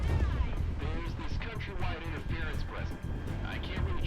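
Aircraft guns fire in the flight combat game Project Wingman. The low, rumbling bursts sit beneath someone talking steadily throughout, with booming impacts scattered across the stretch.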